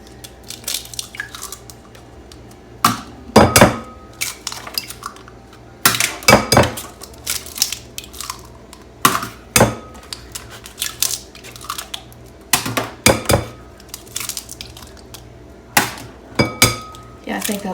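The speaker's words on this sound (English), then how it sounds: "So I am going to just go ahead and crack, I think I'll do 6 eggs." Six eggs are cracked one after another against a hard edge, each a sharp close knock or crunch followed by light clinks of dishware, spaced out over a quiet kitchen.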